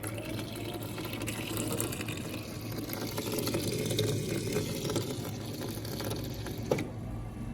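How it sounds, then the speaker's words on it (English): Milk flows out of an Ubermilk machine during a flush cycle, a continuous trickling, gurgling stream over a low mechanical hum, with a brief click near the end and no talking. "See a bit of milk coming out there again."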